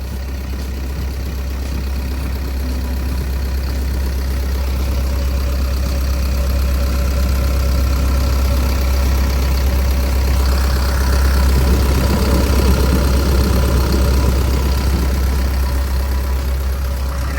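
A Kobelco SK135SR-2 excavator's diesel engine idles steadily nearby with a deep, constant rumble and a faint knocking clatter throughout.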